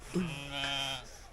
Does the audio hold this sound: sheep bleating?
yes